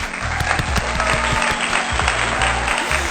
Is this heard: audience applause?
yes